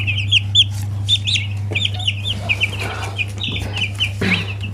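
Many small broiler chicks peep in high, rapid cheeps, close by and continuous, over a steady low electrical hum.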